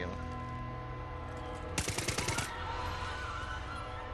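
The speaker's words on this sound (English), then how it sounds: "why would you shoot in the air?" Gunfire in the Far Cry 6 co-op campaign: a loud, rapid burst of roughly seven or eight shots fired into the air, lasting under a second over a steady game background hum.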